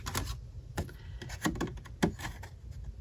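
Paper punch stamping butterfly shapes out of colored paper, a few sharp clicks and thumps at uneven intervals, close and fairly quiet with light handling rustle between presses.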